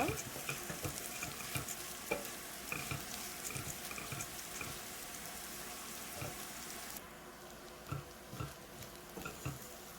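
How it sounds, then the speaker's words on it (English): Rice with cinnamon and spices cooking in a pan for vegetable pulao, a continuous sizzle with repeated scraping stirs at an uneven rhythm, close and moderately loud. "So as I'm cooking my rice here, so it's been cooking for a minute."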